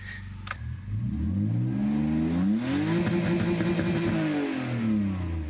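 BMW E46 engine with a raised rev limiter, revving up from idle to a sustained high-rpm roar and settling back down, loud and close with no talk.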